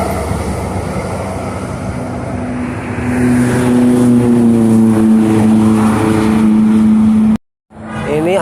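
A Laju Prima intercity bus passes on the Trans Java toll road with a loud, close roadside rush and a droning engine tone that rises as it goes by, before the sound cuts out briefly near the end.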